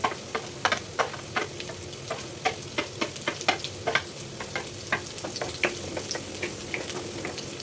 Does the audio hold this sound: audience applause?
no